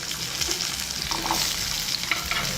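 Pumpkin and carrot pieces frying in a pan for khichdi, a steady close sizzle with a few stirring scrapes, with no talk.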